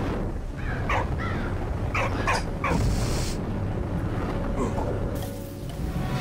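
A dog in the World War I game Valiant Hearts lets out a handful of short, quick barks and yips up close, grouped in bursts over a continuous game background.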